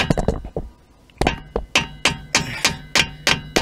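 Sharp metallic hammer taps drive a flathead screwdriver into the pinch bolt of a front suspension lower arm on a Vauxhall Astra G Mk4, first a few quick knocks, then a pause and a steady series of about eight evenly spaced ringing strikes, close by.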